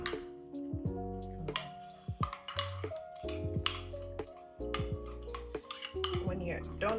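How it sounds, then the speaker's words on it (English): Spoon clinks and scrapes against a bowl while egg is mixed into banana, oat and carrot batter, with rapid uneven clatter and ringing taps, close and clear. "Give it a good mix."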